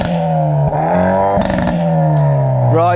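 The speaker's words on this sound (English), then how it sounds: "So start the Hyundai. That already sounds better. Give it some revs." A small Hyundai hot hatchback engine revs up hard and holds a buzzing, raspy high note, with a brief dip and a second climb near the end, loud and close.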